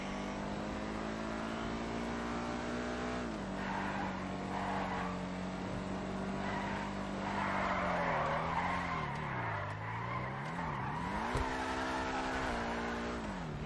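A Benefactor SM722 sports car in the game GTA skids and slides with tire squeal, its engine note rising, dipping and surging as it loses and regains control.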